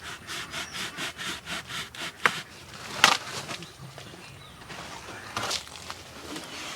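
A bare saw blade, held without its frame, cuts a piece of wood for a Christmas crib, making steady rhythmic rasping strokes close by, then a few sharper scrapes and cracks as the cut ends.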